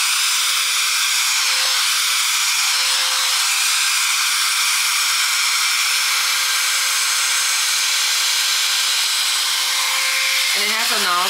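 Hair dryer blowing on hair, a loud steady broadband whoosh with a constant motor whine running throughout, briefly shifting at the very end as the airflow changes.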